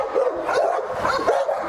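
Dogs barking and yipping at a Cane Corso kennel farm, with English Mastiffs among them, a dense run of overlapping barks and whimpers that carries on throughout at moderate loudness.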